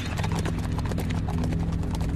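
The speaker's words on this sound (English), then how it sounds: "they galloped off toward Shaolin" Horses gallop in a dense, continuous rush of hoofbeats, loud and close, with a faint whinny mixed into the steady drumming.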